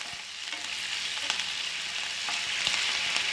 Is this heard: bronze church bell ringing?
no